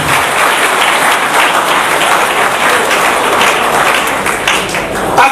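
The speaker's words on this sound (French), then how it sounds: "Est-ce qu'on peut acclamer très très fort pour lui?" An audience at an outdoor ceremony applauds loudly and steadily, dense clapping with cheering throughout.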